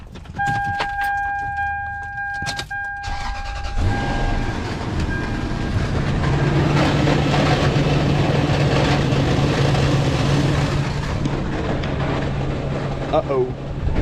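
A failed transmission in a high-mileage 2003 Toyota Sequoia grinding and rattling like a rock tumbler while the vehicle moves, a loud continuous rumbling clatter that starts after a few seconds of chimes and clicks, with a person talking over it.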